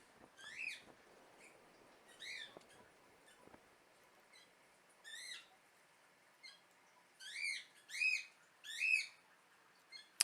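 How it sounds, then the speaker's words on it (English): A pet umbrella cockatoo and an African grey parrot give sharp, high calls and squawks at irregular intervals, some in quick pairs, fairly faint and distant against a quiet room. "I've got an umbrella cockatoo and a African gray parrot"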